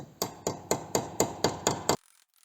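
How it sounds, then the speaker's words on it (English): Hammer striking a part in the engine bay of a 1925 Studebaker, eight sharp metallic blows at a steady, quick rhythm, close and clear, then stopping. "Hammer over a little bit more"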